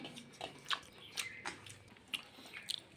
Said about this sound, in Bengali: আজকে পটলটা খাচ্ছি